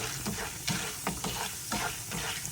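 Chana dal and urad dal dry-roasting in a pan, a soft sizzle broken by repeated scraping stirs roughly every half second, close and fairly quiet with no voices.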